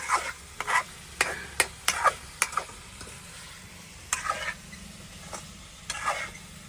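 Green pea and cauliflower curry stirred and fried in a pan over a roadside truck cooking fire, with repeated scraping stir strokes over a steady low sizzle, close and moderately loud, no talking.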